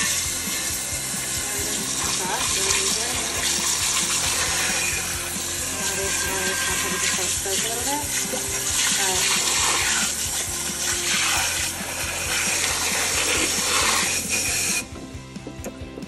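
Water runs steadily from a tap, splashing and hissing loudly, then cuts out near the end leaving a faint quieter background.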